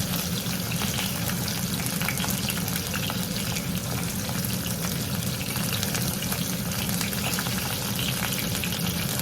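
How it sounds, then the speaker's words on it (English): A pork chop sears in a hot pan on high heat, giving off a loud, continuous crackling sizzle with dense popping spatter that holds steady from start to finish, with no talking. "I'm going to show you the first flip so you can see what it looks like and see how it starts to char"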